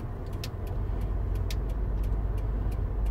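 Car rolling into a parking space at a car park, a steady close engine and tyre rumble with light ticking clicks throughout.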